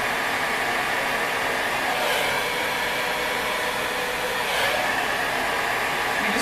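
A handheld hair dryer blows steadily and loudly nearby while someone dries their own hair, a constant whooshing hum with slight swells as it moves.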